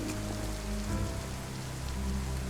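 Steady rain falls in the survival game DayZ, a dense continuous patter on surfaces with a low rumbling undertone, filling the whole stretch without any talking.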